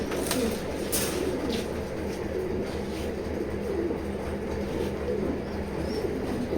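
A male pigeon in a pigeon loft coos repeatedly, soft low throaty calls recurring over a constant background hum and rumble, with occasional sharp clicks and other birds faintly around.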